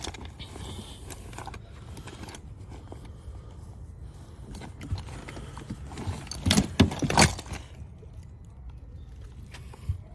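The driver's-side seat of a second-generation Toyota Tacoma pickup is lifted, giving close metallic clicks and rattles that end in a brief louder clunk and creak of the mechanism. No one speaks.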